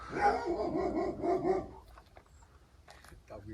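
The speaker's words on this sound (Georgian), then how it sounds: "ძაღლი არ გავაბრაზოთ." A tied dog at the Dzegvi Holy Trinity monastery barks in a quick, loud run of close yips and bow-wows, then falls silent, leaving faint background noise.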